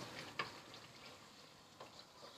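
Masala chicken karahi cooks on low heat with a steady, faint sizzle and a couple of small ticks, and no talking.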